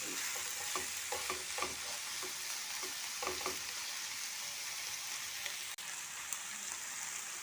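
Okra (lady's finger) frying uncovered in a pan with salt, a steady hissing sizzle broken by a run of scraping spatula stirs early on, then settling into even frying with a sharp clack near the end.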